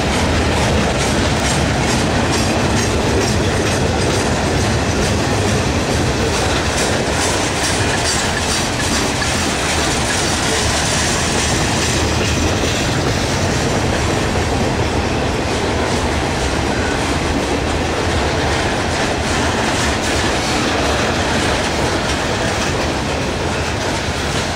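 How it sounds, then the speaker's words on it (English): Norfolk Southern 192, a 112-car manifest freight led by SD80MAC, CW44-9, SD70M-2 and SD60M locomotives, rolls past close by with a loud, unbroken rumble and rapid clickety-clack of wheels on rail joints, with no talking. "192 is a pretty decent train."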